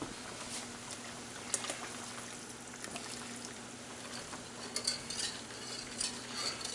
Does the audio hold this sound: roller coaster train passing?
no